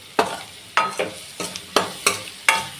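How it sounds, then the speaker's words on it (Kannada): Egg curry masala with tomato and onion fried in a pan, with six or seven sharp scraping stirs at a steady pace over a soft, continuous sizzle, close and fairly loud. "ಈ ಥರ ಫ್ರೈ ಮಾಡ್ಕೊಳ್ಳಿ"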